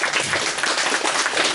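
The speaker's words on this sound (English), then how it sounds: "A big round of applause for Tony Todd" Audience applause at a Comic Con panel in Panama City Beach, a brief dense burst of clapping that fills the room steadily without pause.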